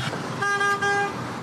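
A car horn gives one steady toot of about a second over traffic noise.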